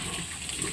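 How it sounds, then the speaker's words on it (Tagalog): Steady gush of water pouring onto dry pig feed, continuous and close, with no voices. "Lagyan natin ng tubig."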